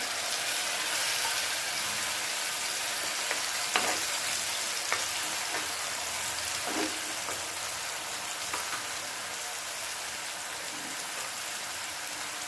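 A paste of ginger, garlic and red chili sizzles in a pan for a yogurt chicken curry, giving a steady, soft crackle with a few sharper pops and stirring scrapes.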